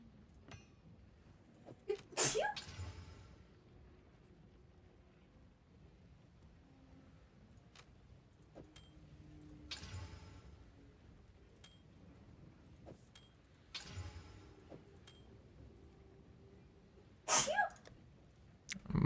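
A single sharp sneeze bursts out near the start, followed later by another short burst, set against quiet room noise while a Path of Exile 2 game session plays faintly in the background.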